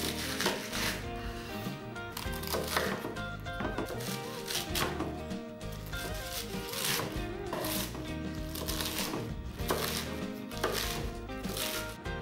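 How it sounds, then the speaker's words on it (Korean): Knife finely chopping napa cabbage on a cutting board, a dense run of rapid, even taps that continues steadily throughout at moderate volume. "배추 200g은 잘게 썰어주세요."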